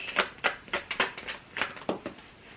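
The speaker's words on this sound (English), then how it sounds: "I just noticed how quickly I was shuffling these cards." Tarot cards shuffled quickly by hand, giving a close series of crisp riffling bursts in an uneven rhythm, about a dozen quick flutters with no talking.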